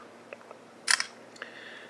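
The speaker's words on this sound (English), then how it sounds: "This is the camera shutter right there." A single crisp shutter click from an LG G3 phone camera, bright and close, followed by a faint tone, in an otherwise quiet room.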